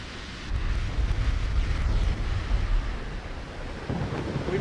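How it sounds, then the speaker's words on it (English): Naval guns firing on warships in Ultimate Admiral Dreadnoughts, a heavy rolling boom of sustained low rumble that swells and holds, with a fresh burst of blasts near the end, loud and without voices. "Fire the guns!"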